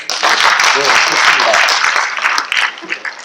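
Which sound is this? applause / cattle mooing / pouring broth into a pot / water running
applause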